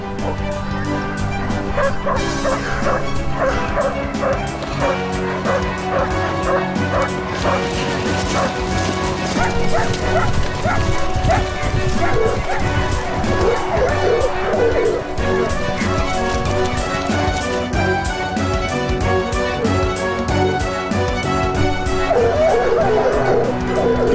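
Hunting dogs bark in a loud, excited chorus after being released for the chase, with overlapping yelps and bow-wows going on continuously over a busy background.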